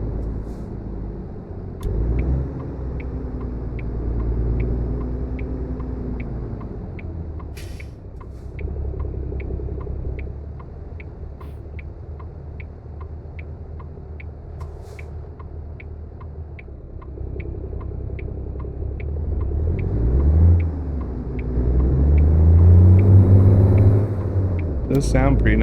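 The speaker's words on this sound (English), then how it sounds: "Again, it is running a Cummins engine." A Cummins diesel engine in an International 9900i truck in American Truck Simulator drones steadily at low pitch while driving, rising in rumble toward the end, with a voice talking over it at times.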